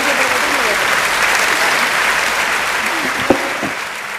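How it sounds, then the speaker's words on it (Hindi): Sustained loud applause from a large audience of thousands filling a hall at a Hindi poetry gathering in Delhi, dense steady clapping throughout with a brief sharper burst near the end. "दोनों हाथ उठाकर जोरदार तालियां बजाकर स्वागत करें"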